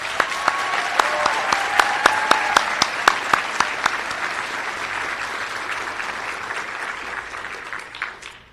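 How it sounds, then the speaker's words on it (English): Warm applause fills the hall for the graduating physician assistant class at a white coat ceremony, steady clapping from a large audience with a few sharp nearby claps, tapering off at the end. "One more round of applause for the class of 27."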